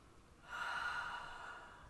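A single slow, audible breath, likely an exhale, taken while holding a standing yoga pose with arms reaching overhead; it starts after a short quiet pause and continues softly and steadily for over a second.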